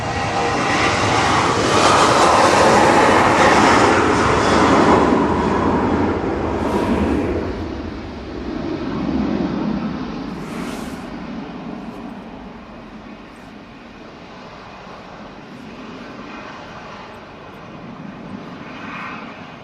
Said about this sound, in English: Jet2 now on the roll.